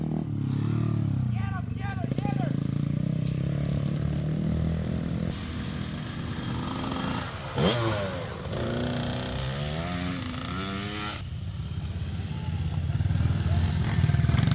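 Pit bike engines revving at a kids' and powderpuff pit bike race, a loud, rasping motorcycle drone rising and falling in pitch over continuous crowd noise, with people talking and shouting nearby.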